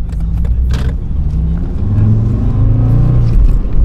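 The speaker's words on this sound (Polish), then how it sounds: "pięknie brzmiące 5 cylindrów" A Volvo S60 five-cylinder engine accelerating, a deep, steady rising rumble heard from inside the car, loud and continuous with no talking.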